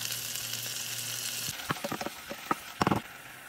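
Garlic and onion sauté in a pan for a sauce with soy and oyster sauce, a steady sizzle that cuts off partway, then a few sharp clinks and scrapes of stirring.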